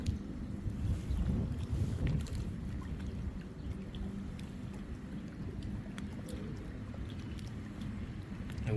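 Wind blows outdoors on the water during panfish fishing on a chilly late-May day, a continuous rushing buffet against the microphone with no talk.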